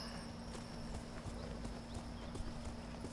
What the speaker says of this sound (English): Let's get on a horse. Get on your horse.